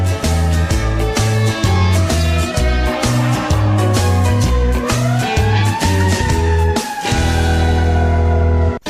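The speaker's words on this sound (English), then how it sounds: "Fire truck." A fire truck siren wails loudly over a steady rhythmic musical backing, its tone rising and sweeping through the middle of the stretch before holding.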